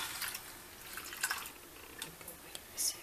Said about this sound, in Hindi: और 1 कप पानी डालेंगे